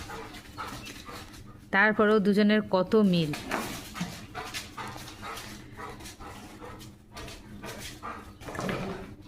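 Dog whimpering and yelping in a rural home shared with a cow, a short burst of high, wavering whines for about two seconds, then quieter noises while a person talks.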